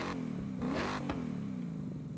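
In Forza Horizon 6, a car fitted with an upgraded intake revs with a throaty, growling drone, swelling and easing over about two seconds. The engine sits steady and up front, and no one talks over it.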